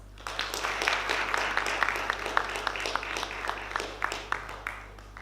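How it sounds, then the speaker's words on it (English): A seminar audience gives a keynote architect a round of applause, many hands clapping in a brisk, continuous patter over a low electrical hum, moderately distant and fairly soft. "Let's welcome him with a big round of applause."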